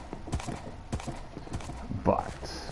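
Horse in a Minecraft-style video game village on PS4, with a few soft hoof clops and a brief whinny-like call in the middle, faint under quiet game ambience.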